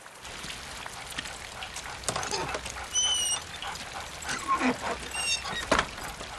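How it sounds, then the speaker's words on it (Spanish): A dog works on a sheep farm in the Scottish Highlands, giving faint whimpers and a few soft barks amid outdoor wind and patter, with a voice talking quietly in the background. "Todas las mañanas, Tom Hill y su perro Jeep se dirigen temprano a ocuparse de las ovejas de su granja en las Highlands escocesas."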